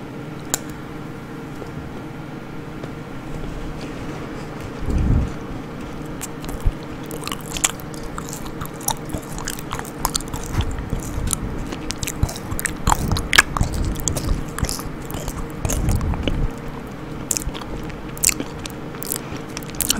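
Close-up chewing of a gritty, powdery food, with crunchy bites and soft mouth sounds coming in uneven bursts over a quiet background, no talking.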